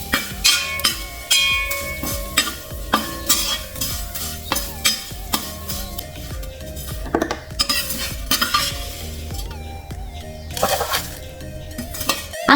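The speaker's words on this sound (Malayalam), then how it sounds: "ഇനി ഈ നെയ്യിലേക്ക് തന്നെ സേമിയ ആഡ് ചെയ്ത് വറുത്തെടുക്കാം" Semiya vermicelli roasts in ghee for semiya payasam, a gentle sizzle under busy, rhythmic scraping and clinking of a metal spoon against the pan.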